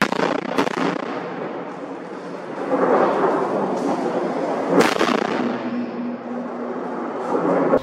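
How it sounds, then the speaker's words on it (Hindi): A daytime rocket and missile barrage by the Al-Qassam Brigades launched toward Israel: a continuous rumbling roar of bombardment with two sharp, loud cracks standing out, heard from a distance without speech. "आपने देखा कि किस तरीके से दिन में भी ये लगातार बमबारी जो है, रॉकेट मिसाइलें जो हैं अलकसाम ब्रिगेड द्वारा दागे जा रहे हैं"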